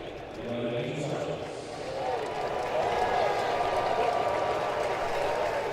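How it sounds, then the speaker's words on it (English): A baseball crowd at a Royals versus Nationals game gives a sustained ovation, a dense wash of clapping and cheering that swells gradually and stays steady, heard at a distance as a broad stadium roar. "Nice ovation from the crowd here."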